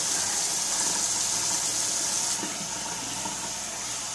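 Parts of an Omega VSJ843 vertical slow juicer rinsed under a running tap, a continuous rushing stream of water that shifts slightly in tone midway as the parts move beneath it.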